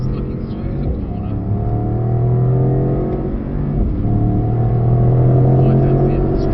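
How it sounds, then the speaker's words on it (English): A Mercedes SL63 engine roars under acceleration on a driving track, a loud, sustained low growl with rising pitch sweeps, heard from inside the car with a driver talking over it. "So now we really hear that engine roar now."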